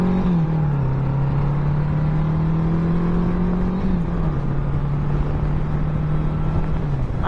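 A 1982 Honda Goldwing 1100 motorcycle riding on the road, its steady engine drone and wind noise continuous and close, with a sustained low tone shifting slightly in pitch as it cruises.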